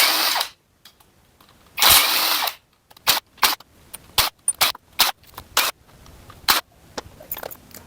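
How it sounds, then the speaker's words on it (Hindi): Power tool spinning bolts out of the magnet cover on an Apache RTR 200 motorcycle, bolts with 8 mm heads, in two long whirring runs and then many short, sharp bursts one after another, close and loud. "यहाँ पे जितना बोल्ट है सबको एक एक करके रिमूव करना है।"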